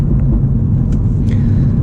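Inside a moving manual Mini Cooper S fitted with a modified intake, a loud, steady low rumble of engine and road drones throughout, with faint brief higher whooshes from the intake.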